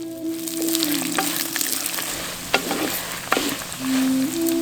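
Peanuts and curry leaves frying in oil for village-style raw tamarind rice, a steady sizzle with scattered crackles and stirring clinks, plus a low hum running underneath.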